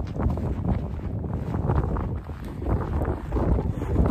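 Heavy wind buffets the microphone outdoors on a farm, a continuous loud low rumble with gusty surges and no voice over it.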